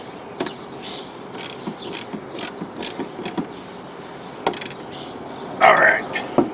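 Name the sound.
ratchet tightening a Husqvarna HU800AWDH mower blade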